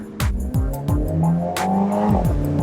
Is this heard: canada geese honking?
no